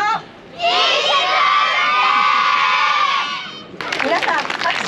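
A crowd of children and adults calls out together to the Pokémon Geodude at the opening ceremony of a Geodude park in Iwate, Japan: one loud, sustained group shout lasting about three seconds, followed by scattered cheering and applause.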